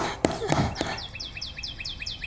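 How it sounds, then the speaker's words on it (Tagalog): Repeated bird chirps in an audio drama, a steady run of quick, bright tweets recurring at an even pace after a few sharp thumps at the start, moderately close. "Ang laki-laking ibon."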